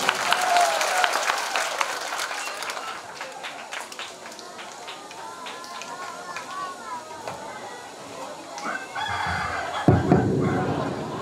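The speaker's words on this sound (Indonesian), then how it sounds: "Ya, tepuk tangan sekali lagi." Applause from an audience at an Indonesian church ceremony rises in a dense wash of clapping, with a few cheers and voices mixed in. It fades a little and then swells again toward the end.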